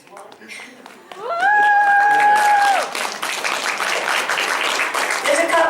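A convention Q&A panel audience bursts into applause, a broad wash of clapping that swells after a held vocal tone and continues with voices mixed in.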